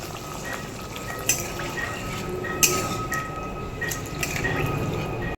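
Cabbage and paneer cooking in a pan with a little added water, a soft continuous simmering sizzle with a few sharp clinks of a spoon stirring against the pan, close by.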